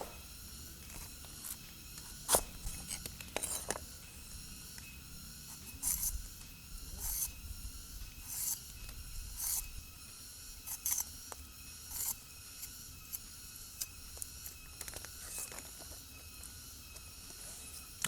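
A knife slicing through a piece of burdock root, a series of crisp close cuts and scrapes at an uneven pace over quiet background hiss.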